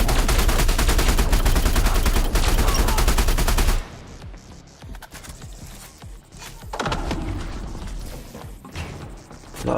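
Gunfire and bullets in the space game Elite Dangerous: a dense, loud burst of rapid shots for the first few seconds, then quieter scattered impacts and rumbling combat noise.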